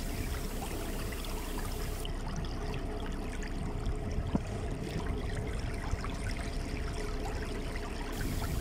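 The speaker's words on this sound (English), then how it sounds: "just the sound of the water" Steady flowing water runs continuously at an even, moderate level, a soft broadband rush with faint trickling detail and no voices.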